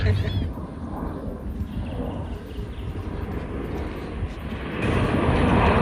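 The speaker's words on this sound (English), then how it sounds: "happy to see these airplanes" Airplanes at Buccaneer Days in Corpus Christi, Texas, heard as a steady, broad engine rumble that swells louder near the end, with the murmur of voices faintly mixed in.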